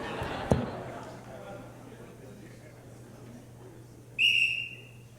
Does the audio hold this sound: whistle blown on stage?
yes